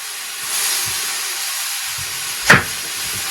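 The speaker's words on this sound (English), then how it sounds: "The peppers were frozen, and so that's why it sounds like they're frying," Frozen peppers sizzle in water in a hot pan on the stove, a steady hiss with a brief sharp burst of louder spitting near the end.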